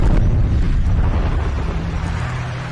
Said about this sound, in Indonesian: tiba-tiba Gunung Merapi meledak yang membuat para penduduk menjadi panik